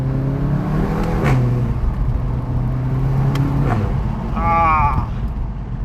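A 2016 VW Golf GTI Clubsport drops a gear with the engine blipping and the revs swinging up and back down, then a sharp rising rev near the end, loud and close over constant road and cabin roar, with no speech.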